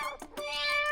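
A cat gives several short, close meows in quick succession, clear and alone, in a brief burst.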